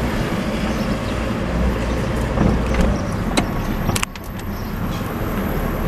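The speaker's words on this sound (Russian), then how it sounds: "Ой, полиция едет" A police car drives along a street in Spain, a steady broadband road rumble that swells as it passes close by, then eases off.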